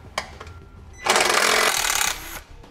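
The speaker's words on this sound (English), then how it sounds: "So I'm gonna be using a T25 Torx bit to remove those bolts." A power driver with a T25 Torx bit backs out bolts on a 2013 Smart fortwo, giving one loud, steady whir that lasts about a second and then stops, with a few light clicks around it.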